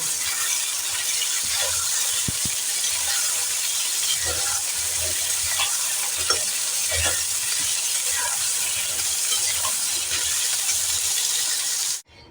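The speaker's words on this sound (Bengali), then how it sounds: "বেগুনটাও কিন্তু খুব সুন্দর করে লাল লাল করে ভেজে নেব" Brinjal frying in oil in a pan with a steady, loud hiss and sizzle throughout, with occasional soft stirring scrapes and clinks, up close and without talk.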